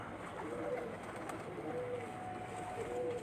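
Lal Pari pigeons cooing softly in a loft, repeated low murmuring coos spread across a steady background hum, fairly faint and continuous.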